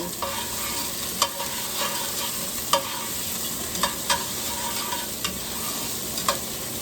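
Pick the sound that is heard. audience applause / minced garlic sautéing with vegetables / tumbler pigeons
minced garlic sautéing with vegetables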